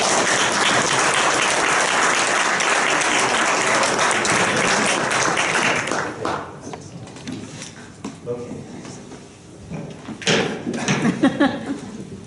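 A conference audience applauds the organisers with dense, sustained clapping for about six seconds, then the applause thins into scattered claps and murmuring voices.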